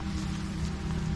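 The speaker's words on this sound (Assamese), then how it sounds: "আজি প্ৰথম দিনতে তো বৰষুণ বহুত দি দিলে" Steady rain pouring down at a roadside beside tea gardens, a dense continuous hiss with a low rumble, with no voices.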